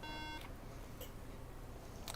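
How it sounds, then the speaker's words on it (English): A MacBook sounds its three-beep RAM fault error: a short, thin electronic tone at the very start, faint against a steady background hiss, then nothing else stands out. "That's a 3 beep RAM fault."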